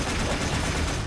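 Rapid gunfire in the video game Warframe, a dense, loud burst of shots blending into a continuous rattle that fills the short moment without pause.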